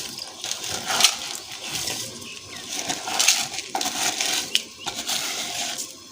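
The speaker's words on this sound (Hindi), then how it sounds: "मैं इसमें जो है चावल डालूँगी" Rice poured into a pot of boiling water for degi white chana pulao, a close, crunchy rattling spill of grains with bursts of clatter over steady bubbling.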